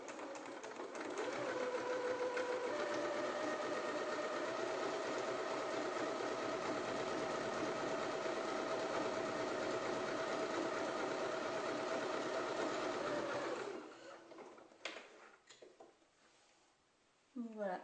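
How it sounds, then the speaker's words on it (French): A sewing machine running a zigzag stitch on white fabric whirs steadily and loudly for about twelve seconds, then stops, followed by handling noises. "on se sert du point zigzag sur notre machine"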